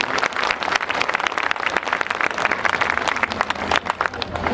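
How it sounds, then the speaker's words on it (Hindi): Crowd applause at a Bihar election rally, a dense, steady wash of many hands clapping that stays loud and continuous throughout with no break. "जोरदार तालियां बजाइए उनके लिए।"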